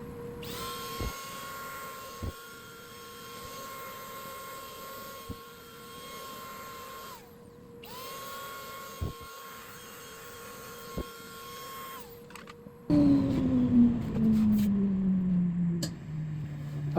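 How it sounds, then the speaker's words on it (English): A power sander on a cherry wood and blue epoxy bowl gives a steady high-pitched whine with brief pauses and a few sharp clicks, then shifts into a lower, louder grinding tone. "it's time to do a little bit of sanding"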